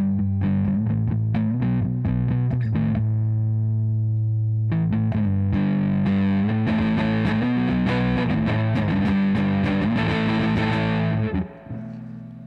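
Electric guitar on its humbucker pickup, run through a Warm Audio Foxy Tone Box fuzz pedal, plays loud, thick distorted chords and riffs that pause briefly, then return even denser and ring out.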